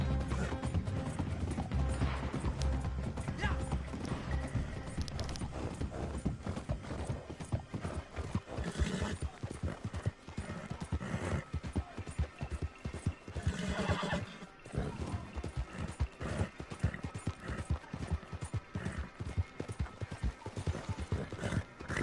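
Horse hooves clip-clopping steadily with occasional neighs and whinnies in the video game Red Dead Redemption 2 online, a continuous busy mix of hoofbeats and mechanical clatter with no speech.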